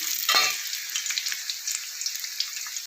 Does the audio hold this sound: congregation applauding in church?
no